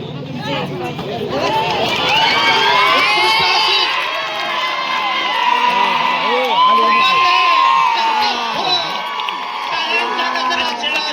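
A loud village kabaddi match crowd roars, whoops and cheers continuously, with excited shouting and the babble of many voices filling the whole stretch.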